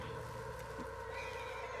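A spooked horse whinnies in Red Dead Redemption 2, a faint, continuous neighing over steady game ambience with soft hoof clops, quiet throughout.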